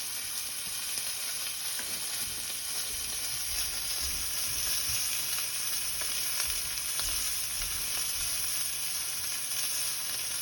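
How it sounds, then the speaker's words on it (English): A ribeye steak sears in a hot pan, giving a steady, dense sizzle with crackling spits that holds for the whole stretch, close and fairly loud, with no voices. "When you pan sear a steak,"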